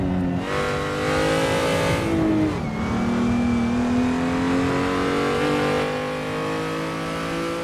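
Race car in the Assetto Corsa driving game at Bathurst, engine droning loud and steady with a gear shift near the start and another about two and a half seconds in, revs dipping and then climbing again, no voices.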